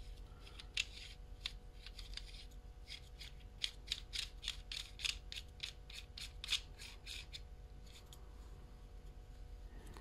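Small part screwed onto a G&G airsoft rifle, a run of quick close ratcheting clicks and rubbing threads in irregular bursts over a low steady hum.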